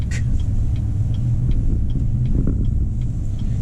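A 2019 Chevy Silverado RST pickup with a 5.3-liter engine cruises along, heard as a continuous low rumble of engine and road noise from inside the cab, steady and fairly loud with no talking.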